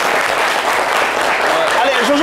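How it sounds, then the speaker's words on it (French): Dense, steady applause fills the space, a crowd clapping continuously, with a voice faintly rising over it near the end. "Entre-temps, on va applaudir bien fort Zénab Bansé."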